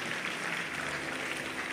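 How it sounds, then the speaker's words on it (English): A congregation claps steadily at a church miracle service, a dense, even patter of applause heard from a moderate distance without talk. "Please keep clapping until they go."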